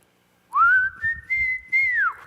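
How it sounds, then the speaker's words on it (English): A person whistles a single sustained, sliding tune during a live acoustic Christmas stream, rising at the start and bending down at the end, with soft low rumbling underneath. "I've got a decent whistle."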